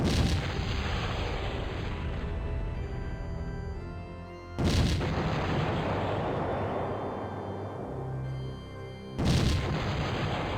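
Cannon fire against a wall in the strategy game Cossacks: several deep booming blasts, with loud bursts near 4.5 s and 9 s over a continuous rumbling battle din.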